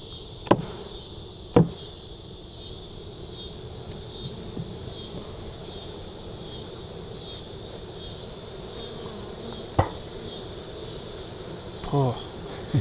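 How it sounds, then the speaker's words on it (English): Loud continuous buzzing of a dense swarm of bees dumped from a wooden hive box, with a few sharp knocks and thumps of the box standing out over the drone. "Let's dump these bees."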